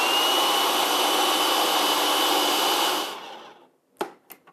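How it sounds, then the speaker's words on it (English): Blender grinding oats into peanut butter cookie batter, a loud steady high-pitched whir for about three seconds that winds down, then a few short clunks. "it does take a little bit for it to blend up just because there are those oats in there"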